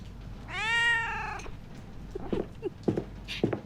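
A single drawn-out cat meow in a video game rises and falls, followed by a few short soft chirps and small clicks.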